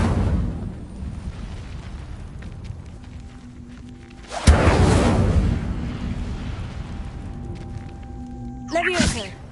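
Incendio fire spell cast in a video game: a sudden roaring burst of flame that swells and rumbles for several seconds before tailing off, followed by a brief bright flourish near the end.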